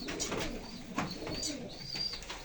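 Pigeons coo in low, soft repeated phrases amid a busy mix of other bird chirps and calls, steady and fairly close throughout the short stretch.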